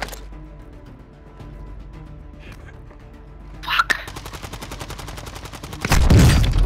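Gunfire in Call of Duty: Modern Warfare II: a sudden burst of rapid automatic shots, then sustained rattling fire ending in a heavy crash or blast, loud and close over quieter game ambience.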